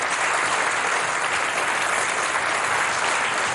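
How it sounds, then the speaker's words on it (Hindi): Loud, steady applause from a studio audience on the Hindi game show Wheel Smart Shrimati, dense and unbroken clapping across the whole stretch with no voices. "ऑल द बेस्ट, जोरदार तालियां।"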